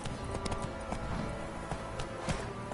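Roach, the horse in The Witcher 3, gallops with a quick, rhythmic run of hoofbeats, fairly close, over faint game ambience.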